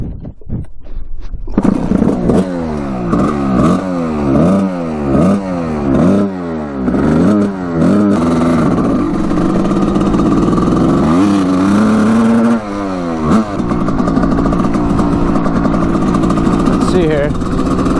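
A 1989 Suzuki RM250 two-stroke dirt bike engine barks to life and revs in repeated rising and falling bursts, then settles into a loud, steady, buzzy idle with occasional throttle blips close by.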